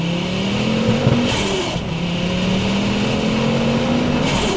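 A 520 hp Ford Focus RS Mk2 with a turbocharged five-cylinder engine launches on an open road, its engine note climbing hard, dropping briefly at a gear change, then rising again, loud and close throughout.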